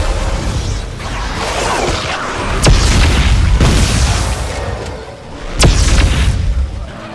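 Heavy booming gunfire and blasts aimed at the player in the sci-fi horror game Dead Space 3, loud continuous rumbling with two sharp cracks cutting through, no talking.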